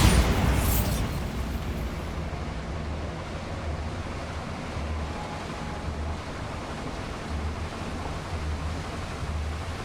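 A Bombarda explosion spell goes off in Hogwarts Legacy, a sudden loud blast that settles into a long, steady, surf-like rumble of debris and air lasting several seconds.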